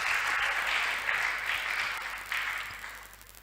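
Audience applause at a church panel on faith and consecration, a steady mass of clapping that carries on throughout and slowly tapers off toward the end.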